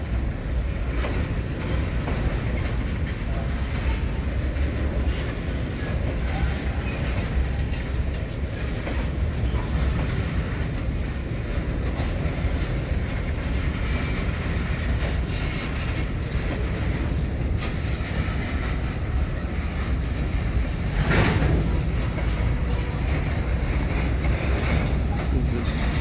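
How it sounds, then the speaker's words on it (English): Wheeling & Lake Erie freight train with tank cars rolls past on jointed rail in the evening, a continuous rumbling roll with faint rhythmic wheel clatter heard from a moderate distance. "Decently sized train."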